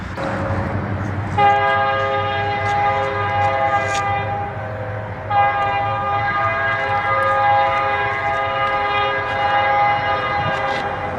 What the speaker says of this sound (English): Our train would then proceed to pick up speed as it makes its way through Black Hawk and towards Spearfish.